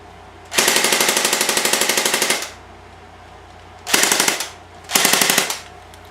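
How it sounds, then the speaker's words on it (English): A Pulse R76 blaster dry fires with its gearbox rattling: one long burst of about two seconds, then two shorter bursts, each a loud, close, rapid buzzing stream of shots with quiet gaps between and no talk. "I'm just going to do it just to give you a sense of the rate of fire"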